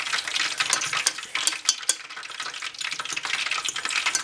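Vegan poutine gravy made with broth being stirred in a pot, a steady scraping swish with light sizzling and a few sharp spoon clicks against the pan, close up and continuous with no talking.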